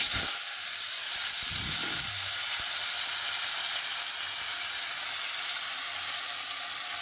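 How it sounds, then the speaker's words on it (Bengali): Potato and eggplant pieces hitting a hot wok with spice tempering, a loud, steady frying hiss that swells sharply at the start and then holds, with a brief clatter near the beginning. "কড়াইটা গরম হয়ে গেছে, উপর থেকে ফোড়ন দিয়ে দিলাম, আলু বেগুন কেটে রেখেছি দিয়ে দিলাম"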